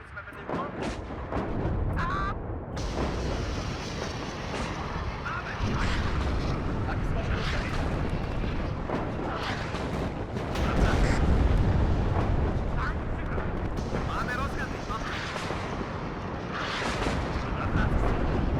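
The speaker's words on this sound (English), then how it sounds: "The artillery consistently falling down there is fantastic for us." Artillery shells keep landing in a WARNO campaign battle, rumbling booms and blasts rolling in over a continuous din of combat, with someone speaking over the barrage.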